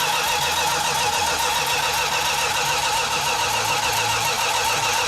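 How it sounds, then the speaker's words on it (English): A 1969 Super Bee with a 440 Six Pack engine and 4-speed cranks over steadily for several seconds, a loud, continuous mechanical churn with no catch or talk over it. "when we initially tried to start cranking the engine over"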